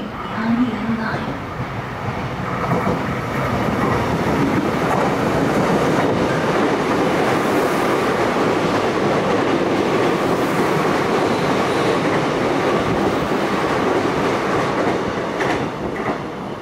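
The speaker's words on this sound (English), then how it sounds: "The train bound for Incheon is now approaching." Loud rumble of a train bound for Incheon pulling into a South Korean station, rising clatter and rolling wheels with faint squeals, continuing steadily throughout.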